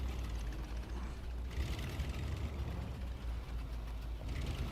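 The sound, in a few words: Loadstar 1700 Scout truck engine idling, SnowRunner video game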